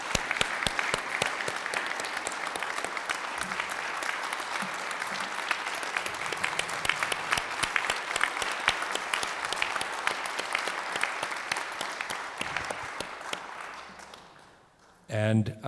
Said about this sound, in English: let's just give him one more round of applause